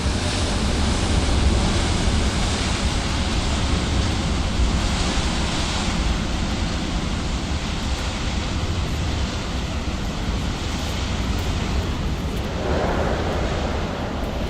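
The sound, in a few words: strong wind outdoors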